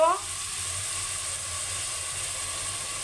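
Chicken sizzling steadily in a hot pan with spices, a continuous close frying hiss and crackle after a brief clatter at the start, no talk.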